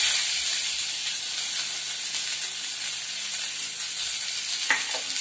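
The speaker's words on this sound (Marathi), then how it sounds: "आता गॅसवरती बघा कढई ठेवले ना, त्यात आपला कांदा लसूण आणि आलं टाकते आणि चांगलं आपल्याला भाजून घ्यायचंय" Onion, garlic and ginger fry in a spoonful of oil in a kadhai, giving a dense, steady, close sizzling hiss throughout, with one brief sharp clink near the end and no voices.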